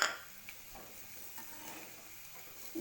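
Dry prawns frying in a pan over medium-low flame, a faint steady sizzle with a few soft stirring scrapes, heard close and alone.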